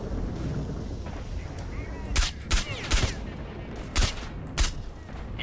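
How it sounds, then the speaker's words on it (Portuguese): Sniper rifle shots in S.T.A.L.K.E.R.: Shadow of Chernobyl crack out as five or six loud, sharp reports spaced about half a second to a second apart over a background rumble. "Vamos usar sniper aqui."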